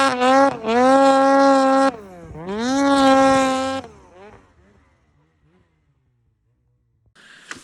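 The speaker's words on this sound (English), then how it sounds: "this thing has a Force Turbos can. Great sounding can." Ski-Doo snowmobile fitted with a Force Turbos exhaust can, revved hard twice in long rising, buzzy blasts, close and loud, then dropping away to a low idle burble and near silence.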